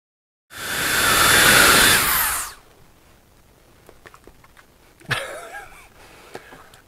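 Electric compressed air duster blows one loud, close, steady hissing whoosh lasting about two seconds, then cuts off into quiet room noise with a few faint knocks and rustles.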